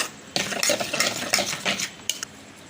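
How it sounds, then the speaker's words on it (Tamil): A spoon stirs a thick batter of sago, curd, semolina and salt in a bowl, giving several close scraping and clinking strokes in an uneven rhythm with short pauses, with no voices. "ஃபஸ்ட்டு ஒரு தடவை நல்லா மிக்ஸ் பண்ணி விட்டுக்கோங்க அந்த ஜவ்வரிசி தயிர் அப்புறமா ரவை உப்பு எல்லாமே நல்லா சேர்கிற மாதிரி மிக்ஸ் பண்ணி விட்டுக்கலாம்"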